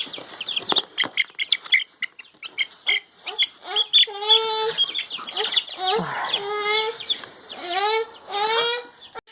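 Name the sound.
baby chicks chirping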